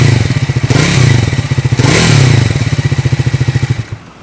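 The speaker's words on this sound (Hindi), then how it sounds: "एग्जॉस्ट नोट आप थोड़ा सा रैप करते हैं।" A Triumph 400 single-cylinder motorcycle revs through its exhaust, giving a loud, close, throbbing pulse that swells twice in short bursts before settling to a steady idle-like putter and cutting off near the end.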